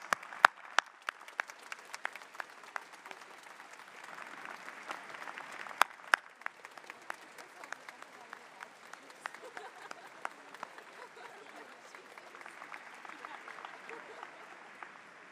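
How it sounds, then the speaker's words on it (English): Steady applause from a commencement audience honoring the engineering faculty, a broad wash of clapping that carries on without pause for the whole stretch, with sharper individual claps popping out now and then. "Please join me as we applaud their support, dedication, which is for the success of our students."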